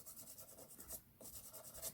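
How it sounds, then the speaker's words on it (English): Soft, close scratchy rubbing of a flat sand eraser moved gently back and forth over a hot-foiled Christmas card, a few short strokes with a brief pause in the middle. "I like to use a flat sand eraser and just go very gently, very flatly over the top"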